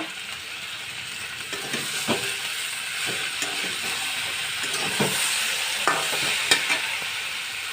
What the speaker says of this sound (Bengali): এরপরে আমি এখানে দিয়ে দেব ওই পুঁটি মাছগুলো